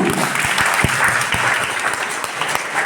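An audience gives loud, sustained applause for a man being honoured at a Bengali-speaking gathering. The clapping is dense and steady across the whole stretch, with a few sharper claps standing out, and no one speaks over it.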